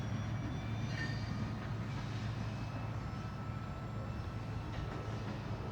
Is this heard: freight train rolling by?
yes